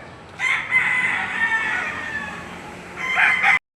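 Roosters crow loudly nearby at a chicken market in Padre Garcia, Batangas, one long drawn-out call followed by another starting near the end, with clucking fowl in the background.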